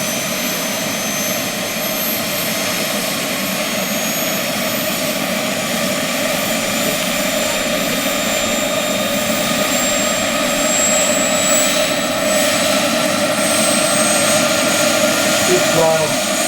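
A Los Angeles fire fighter RC scale turbine model helicopter flies with a loud, steady turbine whine and rotor roar. A faint rising tone runs through the sound, which stays continuous and fairly close throughout.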